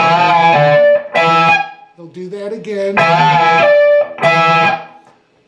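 Electric guitar double stops with a bend and pull-offs: bright, distorted paired notes in short phrases, one bending in pitch midway, with a brief spoken remark.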